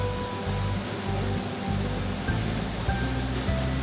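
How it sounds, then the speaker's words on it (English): Giessbach Falls in Switzerland crashes just a few feet away in a dense, steady roar of falling water, loud and unbroken throughout, with no voices. "Standing there with the waterfall crashing just a few feet in front of you."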